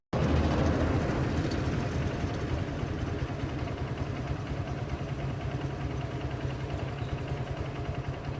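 A tractor engine rumbling steadily while rolling straw into bales in a paddy field, a continuous close low drone with no voices.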